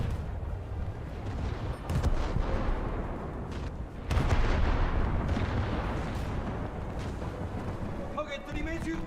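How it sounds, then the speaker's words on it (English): Torpedo launches and ship combat in a naval video game: heavy rumbling bursts and booming blasts, with a loud surge partway through and brief electronic chirps near the end. "Let's launch my other set of torpedoes at them."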